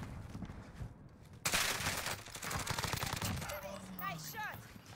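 Rapid bursts of gunfire from the battle royale video game Warzone, including sniper shots, sounding loud and close and running for several seconds, with a few short game tones toward the end.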